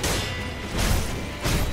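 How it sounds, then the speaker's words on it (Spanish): Firecrackers thrown in the video game Sekiro, two heavy broadband bursts about a second apart rising over a constant noisy game background. "Petardos en tu cara."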